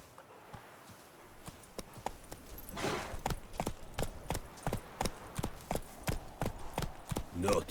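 Rhythmic hoofbeats of a horse picking up pace in The Witcher 3, sharp clip-clop strikes growing louder and faster, with brief voices and game sound effects.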